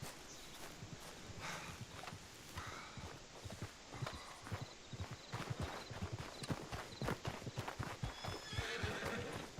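A video game horse whinnies repeatedly while hooves clip-clop steadily at a walk, fairly close and clear, with no talking.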